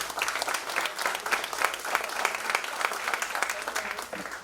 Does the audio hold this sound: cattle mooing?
no